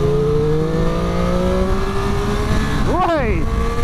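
Triumph 765 Daytona Moto2 motorcycle on a road, its engine droning steadily then rising sharply in a quick rev near the end, heard loud and close under wind rush.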